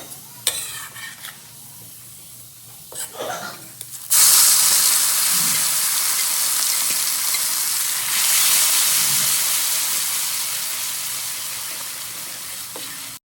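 Garlic, cumin and asafoetida sizzle loudly in hot oil in a wok for an Indian tempering, a sudden bright frying hiss that begins a few seconds in and holds steady, close and alone after faint clatter.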